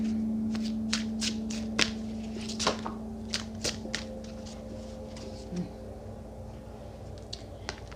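Oracle cards being shuffled by hand, a series of soft crisp riffles and taps spread across the clip over a steady low hum, fairly quiet and close.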